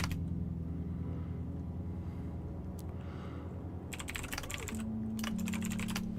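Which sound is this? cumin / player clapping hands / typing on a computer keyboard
typing on a computer keyboard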